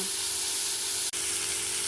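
Potato and eggplant sizzle steadily in a pan, frying loudly and close with a dense, even hiss and one brief break near the middle.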